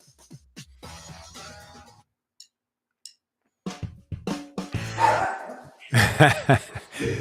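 A dog barks at something outside, sharp repeated barks in irregular bursts with pauses, fairly close and loud, mixed with some whimpering yelps.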